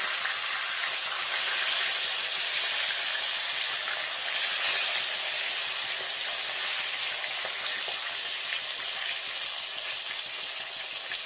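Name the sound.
rohu fish frying in a pan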